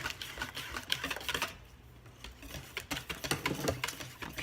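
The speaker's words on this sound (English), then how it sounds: "you want to whisk a little bit more vigorously to make sure that everything gets combined" A whisk clatters rapidly and vigorously against a bowl while sweet potato pie filling is mixed, close and busy tapping strokes that pause briefly midway before resuming.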